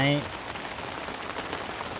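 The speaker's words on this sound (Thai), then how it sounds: "คราวนี้ฝนตกนะครับ" Steady rain patters across surfaces outdoors beside a flower garden with marigolds, a dense, even hiss of drops that holds for the whole stretch, with a brief voice-like tone right at the start.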